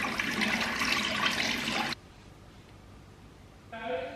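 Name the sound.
rinsing face with warm water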